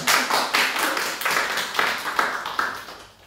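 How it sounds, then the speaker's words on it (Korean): A church audience claps loudly and close by to welcome a speaker, striking in a fairly steady rhythm of strong, evenly spaced beats that fades toward the end. "박수로 환영하겠습니다."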